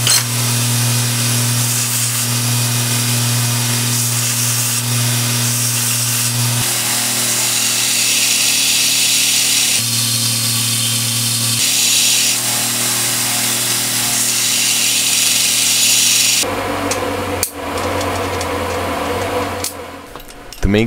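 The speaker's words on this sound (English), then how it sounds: "I'll make sure to grind the excess just to make sure that all the joints are a bit smoother." A power grinder smooths excess metal from the welded joints of a homemade power hammer, giving a loud, steady whine and hiss that runs for about twenty seconds, with a harsher rough change in tone near the end and no voices.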